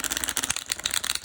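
Quick riffling patter of tarot cards being shuffled, a dense run of crisp papery flutters heard close up and alone.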